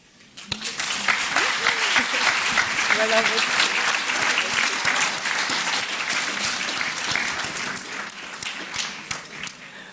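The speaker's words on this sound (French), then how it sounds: "On les applaudit" Audience at a research prize ceremony applauds the winners, sustained dense clapping starting abruptly and holding steady, with faint voices murmuring underneath.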